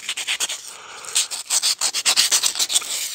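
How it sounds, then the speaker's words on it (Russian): Sandpaper rubbed in circular motions to strip old paint, a loud, close, steady rasping scrape in rapid repeated strokes with no pauses and no talking. "вращательными движениями снимаем старую краску"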